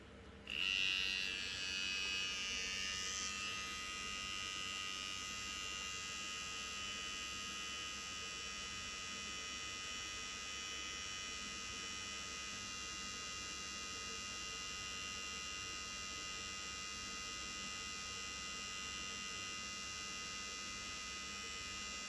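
A Cronier CR 29 hair clipper runs with a steady, close, continuous electric buzz and whine from start to finish, holding an even level after a brief louder start.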